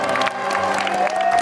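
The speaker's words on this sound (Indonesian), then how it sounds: "Tepuk tangan dulu dong." Steady applause from a studio audience at a televised game show, dense clapping running continuously and fairly loud throughout with no speech on top.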